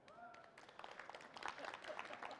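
Quiet, scattered applause from a modest audience at a SQL Server performance session, light irregular claps building slightly over about two seconds, fairly distant and low in level.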